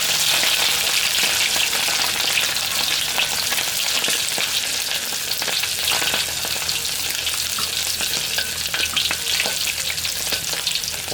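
Food frying in a pan at a Thai eatery while a cha-om omelette and mackerel are cooked; a loud, dense, continuous sizzle with crackling pops and stirring, close up with no talking.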